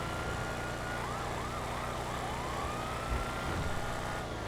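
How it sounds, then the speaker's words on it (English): A wailing police siren in Grand Theft Auto V rises and falls several times over a steady background rumble, with a few thuds near the end. "I hear them sirens."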